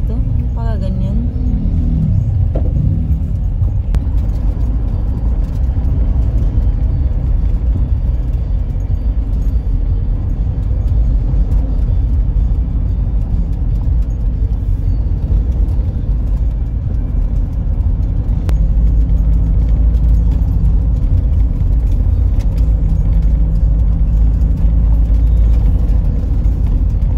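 Car driving in heavy road traffic: a steady, loud engine and road rumble runs continuously throughout, with passing vehicles blending into the drone and people occasionally talking inside.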